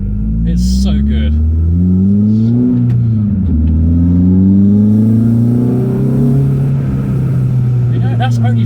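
Cammed Renault Clio 182 Trophy engine revving hard through rising pulls, a loud close-up snarling whine that climbs, dips at a shift, then climbs again, heard from inside the car.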